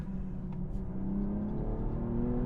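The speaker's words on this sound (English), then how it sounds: "A few burbles from the exhaust and a bit of a bass rumble from the speakers" A BMW M240i xDrive coupe cruising with a steady low engine drone and rumble, the exhaust burbling softly under a rising whir, heard close from inside with no voices.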